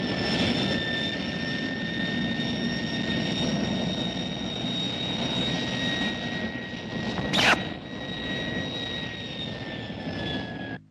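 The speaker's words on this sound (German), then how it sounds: "Wir übertrugen den Probelauf der Triebwerke des Kosmokrators." Sustained roar of the Kosmokrator spaceship's engines during a test run, a science-fiction radio play effect, with steady high whining tones over a broad rumble and a brief burst of hiss midway, loud and without speech.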